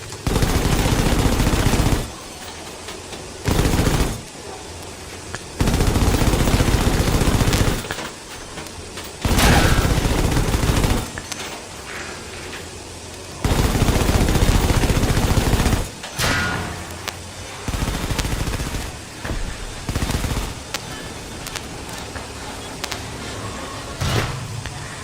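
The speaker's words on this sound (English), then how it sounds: "I think that's an anti-tank rifle." Heavy anti-tank rifle shots in a video game, loud booming blasts arriving in separate bursts with short gaps between them, plus some rumbling mechanical noise and no talking.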